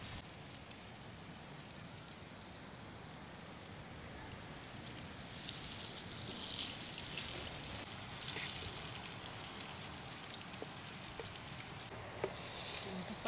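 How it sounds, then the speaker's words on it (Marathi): Marinated pomfret fish fries in oil in a pan, making a continuous soft, crackling sizzle that swells slightly midway, with a few faint clicks and no talking. "पापलेट हा तो आपण आता फ्राय करू"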